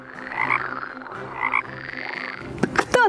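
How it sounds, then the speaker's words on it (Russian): A frog croaks in a children's guessing game, a few raspy rhythmic croaks followed by a cluster of quick bursts near the end. "Я знаю, это лягушка."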